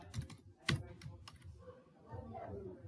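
Quick, light keystrokes on a computer keyboard, a short irregular burst of soft clicks heard close and quiet, with faint talk in the background.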